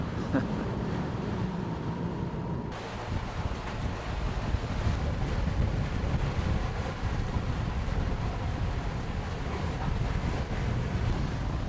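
Steady wind rushes and buffets the microphone aboard a sailing boat motoring almost directly into the wind on one engine at 2000 RPM, with low engine drone and water noise, continuous and loud throughout, no talk.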